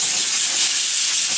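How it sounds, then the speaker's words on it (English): Compressed air blowing out an open Arriflex 16BL 16mm film camera magazine, a loud continuous close hiss for the whole short burst. "I'm going to take some compressed air and really"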